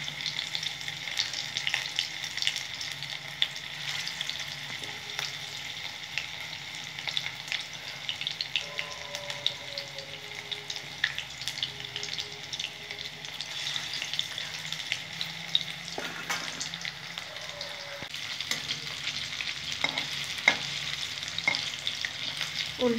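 Prawn pakoras (chingri macher bora) deep frying in oil bubble with a steady close sizzle and crackle that runs unbroken for a long stretch, joined by a few soft clinks, with no one talking.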